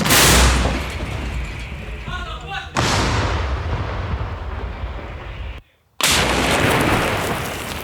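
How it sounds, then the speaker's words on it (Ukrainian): A massive blast from an M109 self-propelled howitzer firing in combat booms close by, followed by a long rumbling roar and a second heavy shot after a brief silence. "Гармата постріл!"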